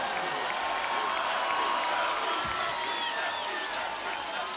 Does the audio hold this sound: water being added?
no